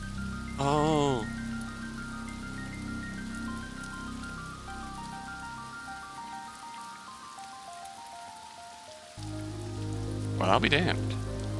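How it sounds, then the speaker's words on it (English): Rain falls steadily in a video game scene, a soft continuous patter under game music, with brief voiced exclamations and speech near the start and end. "Oh, it's raining!"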